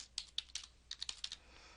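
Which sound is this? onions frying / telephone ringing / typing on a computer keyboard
typing on a computer keyboard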